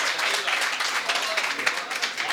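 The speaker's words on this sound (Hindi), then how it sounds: "जोरदार तालियां डॉक्टर श्री गणेश राय जी के लिए।" Audience at an open mic comedy poetry show applauds the poet Dr. Ganesh Rai, with steady dense clapping throughout that swells in bursts, a lively crowd sound close by.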